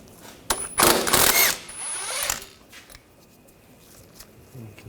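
A ratchet with a 15mm socket works the axle flange bolts on a 2013-2022 Buick Encore rear CV axle, with a loud burst of rapid clicking near the start that then fades into quieter handling sounds.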